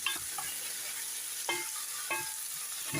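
Red onion and chicken liver frying in a pan, a soft continuous sizzle broken by a few brief scrapes and stirs of a utensil, faint and close.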